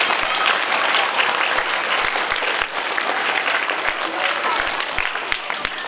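An audience at a district Bal Bhavan summer-class event gives strong, steady applause for a teacher, a dense continuous clapping roar with a few sharper claps standing out.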